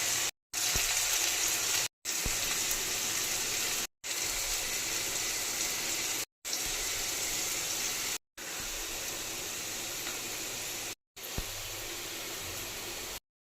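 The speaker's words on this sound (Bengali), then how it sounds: "तो देखिए अभी आलू का भुजिया बना रही हूँ" Potato bhujia frying in a pan gives a constant, hissing sizzle, close and fairly quiet, broken into several segments by brief silent cuts.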